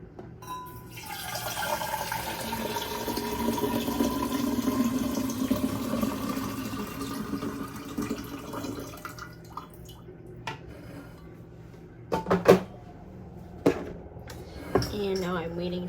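Water runs from an Aqua True filter into a gallon water bottle in a kitchen, a steady pouring fill that fades out, followed by a few sharp knocks and clinks.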